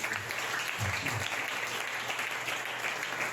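A church congregation claps during a sermon, a faint and distant wash of applause that holds steady over a few seconds, with a low murmur of voices.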